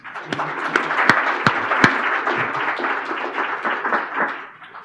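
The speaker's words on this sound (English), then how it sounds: "So how about a round of applause for these guys?" Steady applause from a conference audience at a green economy event, dense clapping that fills the room for about five seconds, with a few sharp nearby claps early on before it tapers off at the end.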